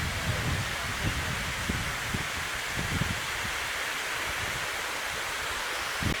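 Victoria Falls in June, heavy water crashing with thick spray, a dense continuous roar heard close and loud with no break, with occasional low rumbling thumps beneath.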